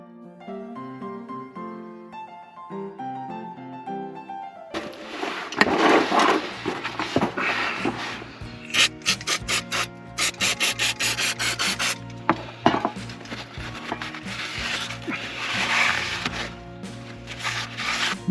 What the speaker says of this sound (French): On va pas enlever 1 millimètre avec une ponceuse comme ça